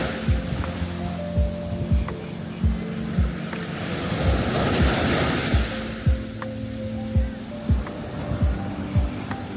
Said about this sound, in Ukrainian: Хвилі сильні.